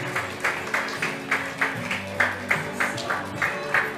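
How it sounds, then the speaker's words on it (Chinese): Wedding guests clap in a regular, rhythmic beat during the cake-cutting ceremony at a Singapore wedding reception, each clap sharp and evenly spaced over soft background music. "再来点掌声，好不好？"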